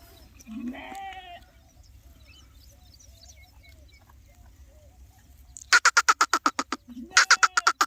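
A farm goat, a recently kidded nanny among sheep and lambs, bleats in a rapid stuttering series of loud calls near the end, after quieter distant animal sounds at the start.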